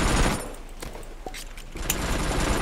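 Shotgun firing in a video game: a loud blast opens, followed by quieter scattered clicks and mechanical clatter, then another burst of gunfire near the end.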